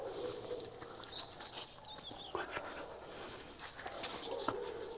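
A German shepherd dog pants softly through a few seconds of outdoor ambience, with faint birdsong and small background noises around it and no one talking.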